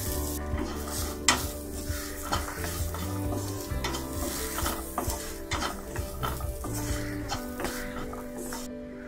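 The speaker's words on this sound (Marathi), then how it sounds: "मिरची पावडर, गरम मसाला थोडा परतून घेऊया, शेंगदाणे घालून घेऊया" Peanuts stir-fried in a pan with chili powder and garam masala for chapati chivda, giving a steady close sizzle with repeated scraping strokes of a spoon against the pan, and no voices.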